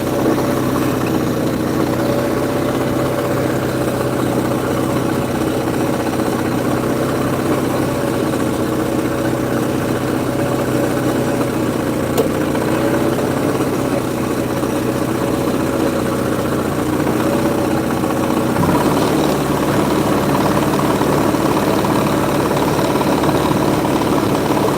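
An old 400 tractor engine idles steadily, a loud, even low rumble with a persistent droning hum and slight knocking texture that runs unchanged for about twenty-five seconds with no speech.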